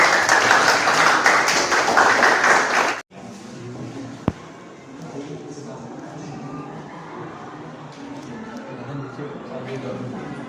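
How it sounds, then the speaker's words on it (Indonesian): Classroom audience applauding after a student group presentation, a dense burst of clapping for about three seconds that stops abruptly, leaving quiet room murmur and one sharp knock. "Tepuk tangan."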